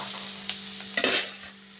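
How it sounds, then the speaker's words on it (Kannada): Onion and green chillies fry in hot oil in a pan, a steady close sizzle broken by a few short stirring scrapes, with no talking. "ಆನಿಯನ್ ಫ್ರೈ ಆಗಿದೆ ನೋಡಿ"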